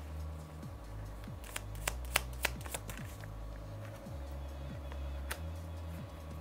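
Tarot cards gathered and shuffled close up, a quiet run of papery riffles and soft snapping flicks with a few sharper clicks, over a faint steady musical drone.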